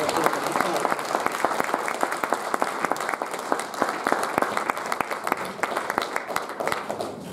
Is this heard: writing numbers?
no